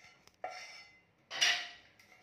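A spoon stirring a potato pizza mixture in a bowl, two short scraping, clinking passes against the bowl, close and quiet with brief pauses.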